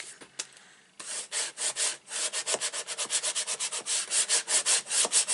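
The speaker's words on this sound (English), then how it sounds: "And I'm going to rub from the back." The back of a card craft panel is rubbed with quick repeated strokes, a close, dry scratchy swishing that speeds into a steady rhythm after a brief quiet start.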